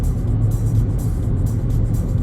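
A car accelerating along a highway acceleration lane near Lower Sackville, Nova Scotia, heard from inside as a steady low engine rumble and road drone, loud and unbroken.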